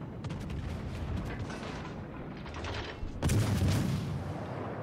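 Booming battleship gunfire in World of Warships Legends from the Seattle Kraken ship, with rumbling salvos and a heavier blast near the end under a steady low roar.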